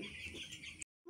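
Chickens at a rural family home give a single brief burst of clucking, close and fairly clear, cut off abruptly after under a second.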